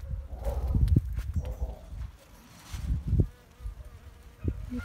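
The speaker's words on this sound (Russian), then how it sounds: "Летают пчелы вокруг цветочков." Bees buzzing around a blossoming plum tree in a spring garden, a close, steady low drone that swells and fades as insects pass near, with no one talking.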